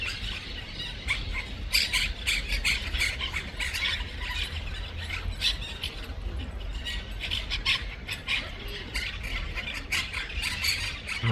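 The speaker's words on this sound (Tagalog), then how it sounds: "Salag sa loro." Parrots squawk and squeal continuously at their nest outdoors, a dense, loud chorus of many overlapping shrill calls with steady low rumble beneath.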